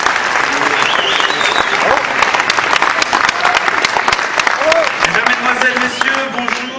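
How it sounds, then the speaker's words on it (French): A theatre audience applauds a close-up magician being introduced at a magic festival, loud, dense clapping sustained throughout, with a few voices and cheers rising faintly within the crowd noise. "je vous demande d'applaudir Stéphane Gomez."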